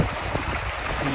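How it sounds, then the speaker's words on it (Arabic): Waterfalls in a wadi near a town in Oman pour as a dense, steady wash of falling water, a loud constant hiss and rumble with no pauses. "هذه الشلالات"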